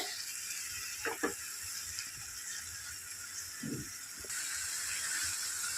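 Carrot halwa with milk simmers in a pan, giving a soft continuous sizzle and bubbling broken by a few scraping stirs of a spoon.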